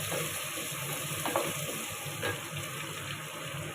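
Onions frying in a pan hiss steadily while being stirred, a close, even sizzle with a couple of faint scraping knocks.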